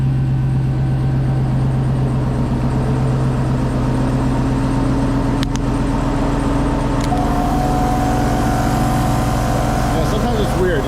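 An OpenRoad portable air compressor for a Ram TRX hums with a steady, continuous motor drone at close range, with a brief clank or two partway through.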